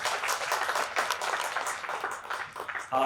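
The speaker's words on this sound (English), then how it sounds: "can we have a huge round of applause for Mr. Amit Kumar Chen?" A crowd applauds loudly and steadily for a few seconds at a business awards ceremony in Bhopal, dense clapping filling the space with no voices standing out.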